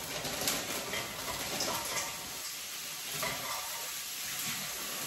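Frozen pre-chopped onion frying in a tablespoon of oil in a wok, a soft continuous sizzle with faint scraping from stirring, quiet and steady with no voices.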